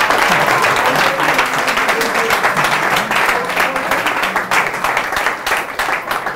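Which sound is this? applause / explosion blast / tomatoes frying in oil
applause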